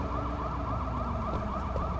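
A police siren in the video game Sleeping Dogs: Definitive Edition wails continuously, its pitch sweeping up and down in a steady repeating cycle, loud and close, with no talking.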